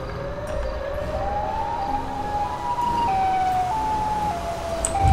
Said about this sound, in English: Ah, I hate these sirens, dude.